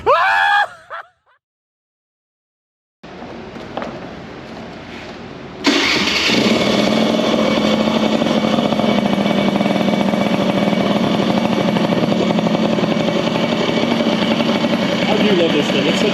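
A 72cc two-stroke moped engine fitted with an Italian-made Aero exhaust pipe starts after a brief silence, then settles into a loud, steady, raspy run that holds for the rest of the span with no talk over it.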